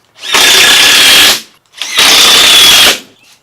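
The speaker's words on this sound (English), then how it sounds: "Then it's just a matter of going through and driving in some screws here." Power drill driving screws into shop shelving boards, with two loud, close bursts of about a second each, the motor whining at a steady pitch and separated by a short pause.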